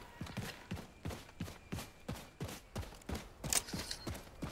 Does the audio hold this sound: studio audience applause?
no